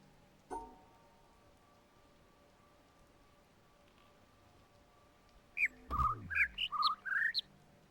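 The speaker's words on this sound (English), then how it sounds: "Am I supposed to be listening to the small bird?" A small bird in the puzzle game The Witness chirps a quick run of bright, high tweets near the end, after a single soft knock and a long quiet stretch with a faint steady hum.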